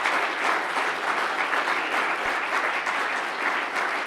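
A conference audience applauds steadily, a dense, even wash of many hands clapping that holds at full strength from start to end without speech.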